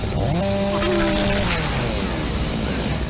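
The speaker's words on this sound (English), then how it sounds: "And voila, the chainsaw is on." Game chainsaw from Doom 3 revving up with a steady engine drone, harmonic pitch bends rising and falling, loud and continuous.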